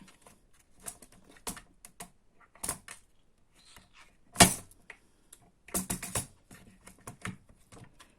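Crocodile hole punch biting through the folded paper of a junk journal to make eyelet holes, a series of sharp dry clicks and snaps, one louder punch near the middle and a quick cluster afterward, close and without talk.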